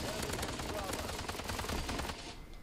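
Rapid, continuous automatic fire from a machine gun in Call of Duty: Advanced Warfare, a dense, loud stream of shots lasting a couple of seconds before cutting off abruptly.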